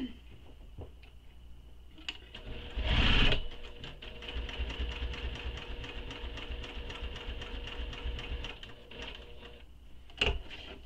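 A sewing machine top stitches a tote bag, a steady rapid mechanical rattle running for several seconds close by, with a louder clunk near the start and another brief knock near the end.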